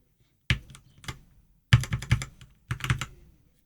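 Keys on a Keychron K10 mechanical keyboard are pressed close up in three quick clusters of clacky strokes, with silence between the bursts.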